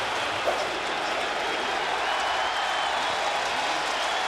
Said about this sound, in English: So Yankee Stadium is loud. Many in the crowd on their feet.